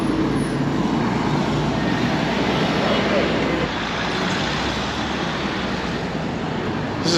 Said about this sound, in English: There's cars going everywhere.